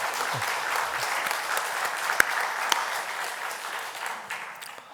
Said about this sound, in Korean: 우리 격려의 큰 박수를 한 번 더 보내주시기 바랍니다.